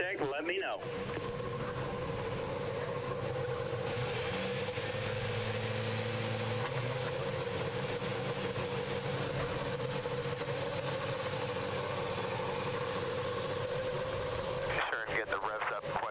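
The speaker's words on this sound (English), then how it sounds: "Drivers, start your engines." IndyCar race car engines idle together at the start of the 2011 Kentucky Indy 300, a steady droning hum that runs the whole time beneath constant radio-style talk.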